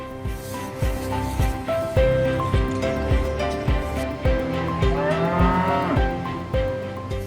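Ankole-type cattle originating from Africa lowing in a herd, several deep, drawn-out moos one after another at close range, with a few soft thuds and shuffles between calls and no speech.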